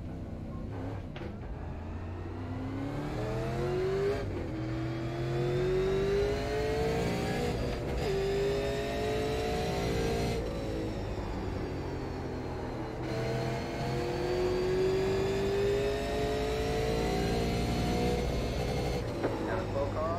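A super late model race car engine in the iRacing simulator at New Smyrna drones close and loud, rising in pitch through repeated acceleration runs with drops between them, while someone talks over it.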